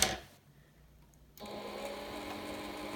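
A household sewing machine winds thread onto its bobbin, a steady motorized whir that starts abruptly after a brief quiet pause and runs evenly at moderate, close-up volume with no talking.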